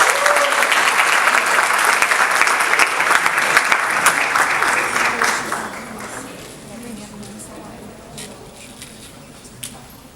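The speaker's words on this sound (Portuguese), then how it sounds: "Uma salva de palmas" An audience at a lecture breaks into strong applause to welcome the speaker, a thick wash of clapping that holds for several seconds and then tapers off, leaving sparse claps and quiet room noise.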